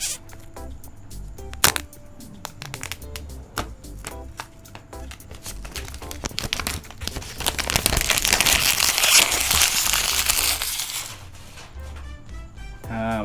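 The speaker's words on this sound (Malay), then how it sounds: "Korang dengar betul-betul bunyi plastik dia." Plastic wrap is torn and crinkled off a white iPhone SE 2020 box, with close-up crackling and ripping that starts as scattered snaps and swells into a sustained, loud rustle before easing off.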